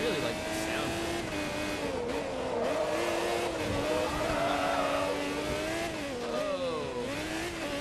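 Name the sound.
car engine in the Forza racing video game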